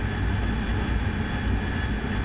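A steady, droning jet engine roar from a fighter aircraft in DCS World, continuous and even throughout with no breaks, a dense cockpit rumble heard alone.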